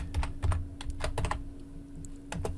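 Keyboard typing on a computer keyboard while searching for a Bollinger Band strategy in TradingView, a quick burst of close clicky keystrokes with short pauses between them and a faint steady hum underneath.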